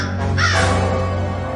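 A single hoarse crow caw played as a sound effect for a three-eyed raven, loud and close over a steady low hum, with no talking.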